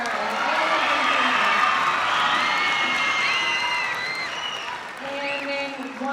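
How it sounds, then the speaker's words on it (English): Audience applause and cheering fill a school concert hall after a 5th grade concert with string students and a band, a steady dense clapping wash with scattered whoops that fades slightly near the end. "Let's do one round of applause for the 3 of them together."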